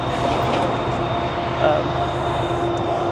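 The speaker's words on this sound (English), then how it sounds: "there goes the train" A long train rumbles past a pavement in Boston's Allston neighbourhood, a steady continuous roar of rail cars at moderate distance with outdoor ambience and no break in the sound.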